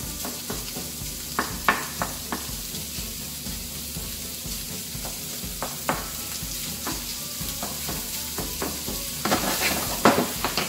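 Onions frying in rendered bacon fat in a pan, a continuous close sizzle and crackle with occasional stirring scrapes and spatula knocks, louder near the end, with no talk.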